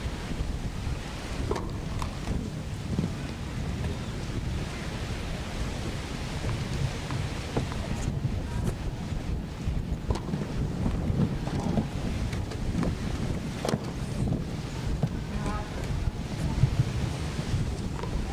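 Steady wind buffets the microphone over an outdoor tennis center court during a wheelchair tennis masters singles match, a continuous rushing roar with faint distant court sounds beneath.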